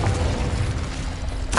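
Confringo, the explosive spell in Hogwarts Legacy, goes off as a low muffled boom, followed by a brief sharp burst at the end.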